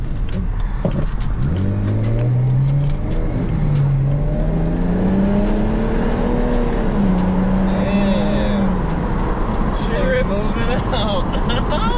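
BMW 335i with an N54 turbo engine accelerating under boost, heard close from inside the car as a steady, loud engine note climbs in pitch over several seconds, with a faint shift-like dip partway through.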